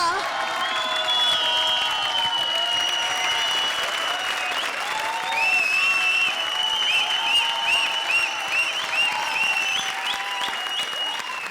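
Steady, loud applause from a large TV comedy show studio audience, mixed with cheering and whistles, continuing without a break.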